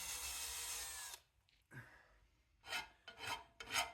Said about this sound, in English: I'm going to be drilling through this bolt to make the hole